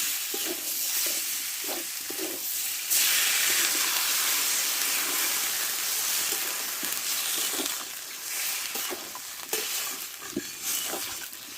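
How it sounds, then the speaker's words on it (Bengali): Water poured into a pan of spiced vegetables that have been frying in masala, giving a sudden loud hiss and rush of steam that settles into a steady, bubbling sizzle with occasional stirring clicks, close and continuous. "মশলার সঙ্গে ভালো করে সবজিটা কষে নিয়েছি এবার আমি জলটা দিয়ে দেবো"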